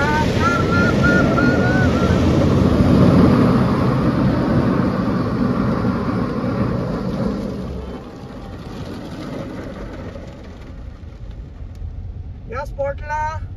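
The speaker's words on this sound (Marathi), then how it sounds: "जिथे जोरात पाणी पडतं ते बघा" Heavy water pours down hard at a monsoon waterfall on the Malshej Ghat road in Maharashtra, a loud, broad roar mixed with wind buffeting the microphone that eases partway through, with brief voices near the end.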